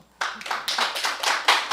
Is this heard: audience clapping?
yes